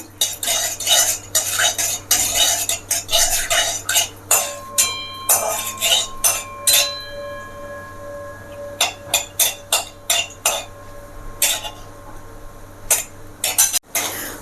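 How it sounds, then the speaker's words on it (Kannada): Cashews frying in a pan over low then rising heat, a steady stream of clinking and scraping stirs with faint sizzle beneath, brief pauses between strokes and no talk. "ಗೋಡಂಬಿ ಹಾಕ್ಕೊಂಡ್ಬಿಡ್ತಾ ಇದ್ದೀನಿ"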